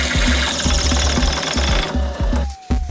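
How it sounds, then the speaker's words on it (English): A power drill with a large bit enlarges an existing hole, grinding into material with a rough, juddering rhythm, its motor whining steadily before it slows and briefly stops near the end. "Take an even larger drill and enlarge the hole next to the one that was enlarged earlier."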